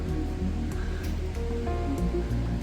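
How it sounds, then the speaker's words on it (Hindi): Water from Wairere Falls near Te Aroha, New Zealand, flows in a steady, loud, broad rush beneath the second bridge on the track, mixed with background music. "देखो ये भी फॉल का पानी है सारा"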